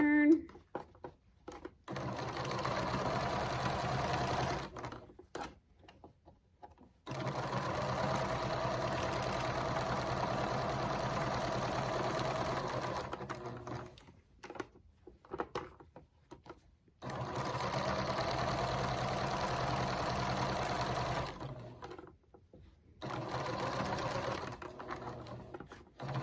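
Home sewing machine stitching all the way around a reversible fabric microwave bowl cozy in three long steady runs of rapid mechanical whirring, separated by short pauses as the needle is set down and the piece is turned.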